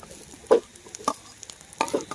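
Tomato pieces and green chillies go into a pan of browned ingredients for an egg curry. There is a low background sizzle with a few sharp scrapes of a spoon or spatula stirring, and no talk.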